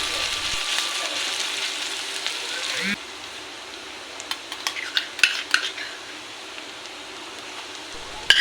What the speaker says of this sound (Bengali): আর দুটো শুকনো লঙ্কা দিয়ে দিলাম তেজপাতা শুকনো লঙ্কা হালকা আছে ব্রাউন হয়ে গেলে